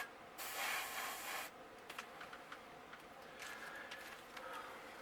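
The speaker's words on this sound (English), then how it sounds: "Spray that orange." A steady hiss of an airbrush spraying orange paint onto a crankbait fishing lure for about a second, followed by quiet scraping and small clicks, close and faint.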